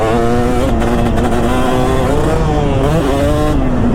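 A 2005 Kawasaki KX250 two-stroke dirt bike being ridden, its loud buzzing engine close by and continuous, with pitch rising and dipping through throttle changes and shifts.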